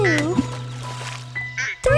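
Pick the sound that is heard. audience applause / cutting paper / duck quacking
duck quacking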